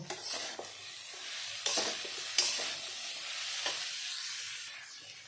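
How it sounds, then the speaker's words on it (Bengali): Banana flower stir-fried in a spice paste of coriander and turmeric for a Bengali chop, with a soft continuous sizzle and scraping stirs of a spatula against the pan, close and without voices. "মোচাটা দিয়েছি এবার একটু কষে নেব"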